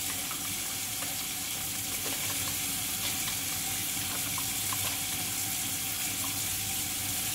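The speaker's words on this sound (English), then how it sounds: "You can wash your hands." Running tap water splashing steadily into a sink while hands are washed under an automatic soap dispenser, a constant close rushing hiss with no speech.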